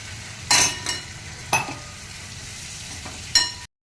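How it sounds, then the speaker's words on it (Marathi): Brinjals frying in oil with a ground spice paste, a low steady sizzle broken by three distinct scraping stirs of a spatula against the pan, close and clear before cutting off abruptly. "तेलामध्ये वांगे टाकलेले आहेत आणि त्याच्यानंतर हलवून"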